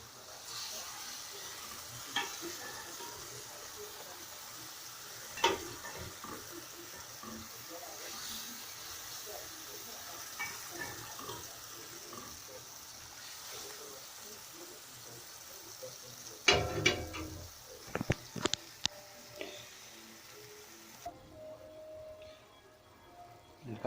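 Hot fish broth simmering and sizzling in a pan for a seafood fideuá, a steady low bubbling hiss with scattered stirring clinks and a cluster of sharper knocks near the end.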